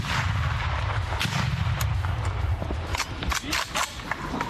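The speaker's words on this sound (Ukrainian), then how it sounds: "Граната." A grenade explodes in combat, a heavy close blast followed by repeated sharp gunfire cracks and rumbling, loud and continuous with no talk.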